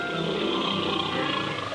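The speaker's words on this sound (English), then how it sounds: "He talked to the lion" A cartoon lion gives a loud, sustained roar that fills the moment on its own, steady and close with no pauses.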